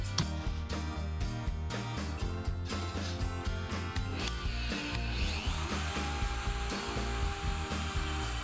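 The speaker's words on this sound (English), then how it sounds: "with the 3D router make the hole for the display" Router cutting a hole in plywood for a display, a busy whirring motor with rapid repeated bites into the wood and a pitch sweep near the end, heard up close with no talk.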